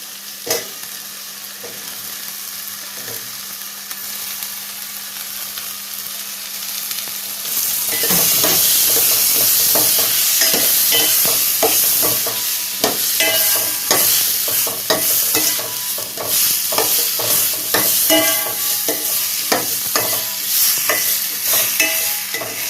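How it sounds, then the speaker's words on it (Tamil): Cauliflower sautéing with tomato in a pan: a steady sizzle that grows louder partway through as the pieces go in, with frequent scraping stirs of a spoon close by. "அடுத்து வந்து எடுத்து வச்சிருக்க காலிஃப்ளவரை போட்டு வதக்கலாம்."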